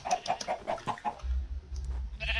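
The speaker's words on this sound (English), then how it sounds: "Come here, chicken." Minecraft chicken clucking in a modded survival game, a run of short rhythmic clucks followed by a low droning game ambience.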